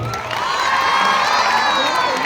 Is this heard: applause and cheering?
yes